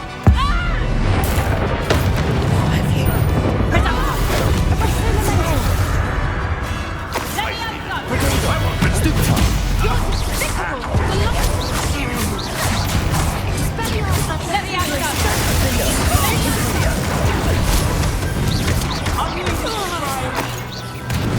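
Hogwarts Legacy final battle, with Confringo blast spells exploding in a loud, dense barrage of booms, crashes and impacts that barely let up, layered under shouting voices and combat effects.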